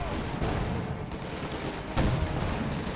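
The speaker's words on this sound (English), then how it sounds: "Rifle grenade." A rifle grenade and gunfire in a war video game: a dense, continuous clatter of distant shots with a heavier thump near the two-second mark, no talking.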